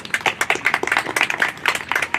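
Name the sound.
applause for parents at school ceremony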